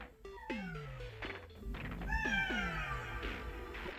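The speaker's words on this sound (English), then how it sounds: "I hate it when cats want you to escort them to their bowl" A cat meows repeatedly up close, several drawn-out, falling cries separated by short pauses, with a few soft thumps in between and quiet room sound behind.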